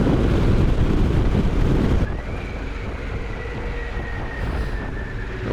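A Harley-Davidson Pan America motorcycle cruising in sixth gear, heard as steady broadband road and wind roar with a faint engine whine, louder for the first two seconds and then settling to a lower, even drone.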